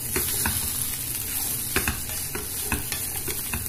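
Ingredients for unnakkaya fry in a pan over a low gas flame, a steady close sizzle broken by regular stirring scrapes at roughly half-second intervals, with no voices.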